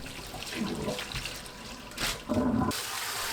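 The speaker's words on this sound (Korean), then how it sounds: "찬물에 헹굽니다." Running tap water splashes and trickles as soaked grains for five-grain rice are rinsed in cold water, with a louder gush of flow near the end and no talking.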